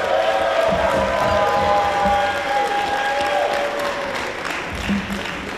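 A wrestling event crowd applauds and cheers steadily after a powerbomb over the top rope to the floor, a dense, continuous roar of clapping and voices throughout.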